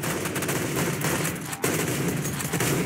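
Dense gunfire from the video game CSGO, bursts of rapid shots running almost continuously, loud and close, with a brief drop in the middle before the firing resumes at full intensity.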